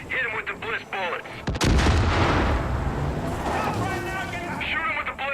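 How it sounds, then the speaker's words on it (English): Gunfire in Far Cry 5 as bliss bullets are fired: a sharp, loud shot followed by sustained booming, rumbling battle noise, with voices talking over parts of it. "Hit him with the bliss bullets."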